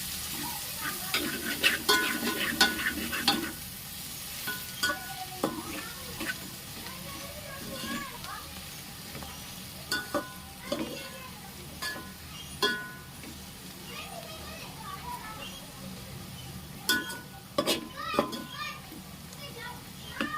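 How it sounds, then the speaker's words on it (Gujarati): A spoon scrapes and clacks as a mixture is stirred in a frying pan, in bursts over a low sizzle, while children's voices chatter in the background. "બધું આ રીતના મિક્સ કરી લેવાનું છે."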